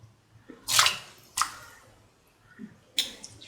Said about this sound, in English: Now put in the soaked and washed rice